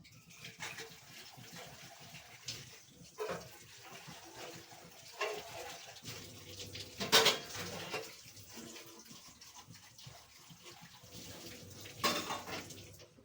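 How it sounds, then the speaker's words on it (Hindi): Dishes and utensils are washed under running water from a tap in a home kitchen, with intermittent splashing, water bursts and clinks of metal pots and cutlery at close range. "तो फिर मैं ये बर्तन धो के रखती हूँ"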